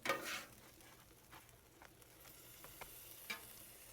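A shrimp quesadilla with Chihuahua, Oaxaca and Cotija cheese sizzles quietly on a hot griddle, a faint steady frying hiss punctuated by a few soft scraping and tapping sounds.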